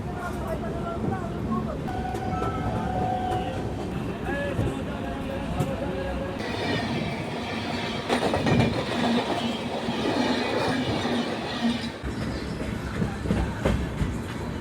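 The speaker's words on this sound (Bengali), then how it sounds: "এদিকে ট্রেন আমাদের ছেড়ে দিল ভদ্রক থেকে" The Falaknuma Express passenger train, running from Secunderabad to Howrah, rolls on after leaving Bhadrak station in Odisha, with a steady, loud rumble and a rhythmic clickety-clack of wheels heard from on board.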